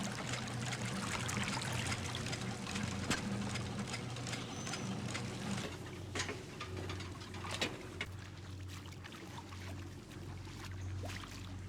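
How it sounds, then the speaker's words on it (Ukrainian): Water drains away in Sherlock Holmes: The Devil's Daughter, a continuous low rushing and trickling flow with occasional clunks, steady throughout. "Спускаємо знову воду."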